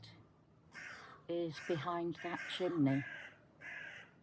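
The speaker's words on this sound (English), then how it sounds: "We've got a baby seagull" A fluffy baby seagull on a rooftop in Weymouth gives a series of harsh, raspy calls from a short distance while someone talks over them.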